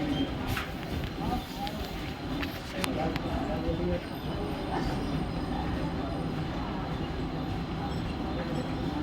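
A Mumbai local train bound for CSMT pulls into Vikhroli railway station, a steady broad rumble of wheels and carriages filling the platform with occasional faint clanks, under station ambience and distant voices.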